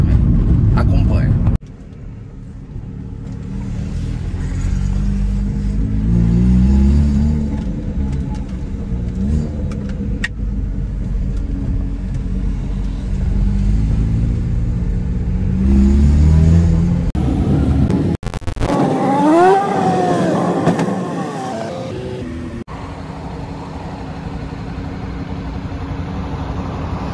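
A motorcycle engine runs steadily while riding, a continuous mid-pitched drone with shifting revs throughout, partly under a voice talking over it.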